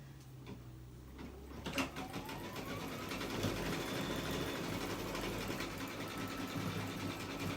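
Sewing machine stitching a last-minute gift, a steady mechanical whir with a fast rhythmic clatter that starts up and runs continuously at close range, with no talking.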